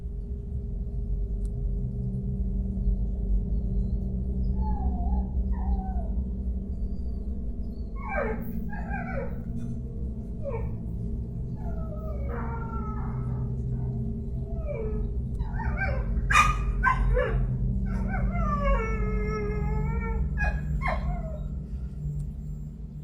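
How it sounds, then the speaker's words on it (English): A small female dog barks and whimpers at about 4 a.m. outdoors, a run of sharp yips and whines clustered in the second half over a steady low background hum, with no talk. "Her dog was barking at seemingly nothing"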